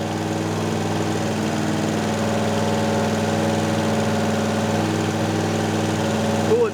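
A turbocharged V8 police car with custom exhaust, EFI and an intercooler idles while warming up at around 2,500 RPM, giving a steady, close, continuous engine drone with an even rumble throughout and no voices.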